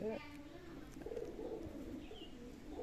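Adult pigeons murmur and coo softly in a loft, low and fairly faint, with a few brief chirps and quiet room noise around them.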